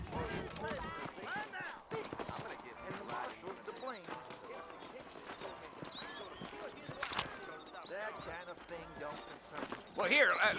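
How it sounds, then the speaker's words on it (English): Horse hooves clip-clop in the Red Dead Redemption video game, a rhythmic trotting beat that runs under a man's dialogue, with a louder burst near the end. "I got the horses saddled up and ready out front."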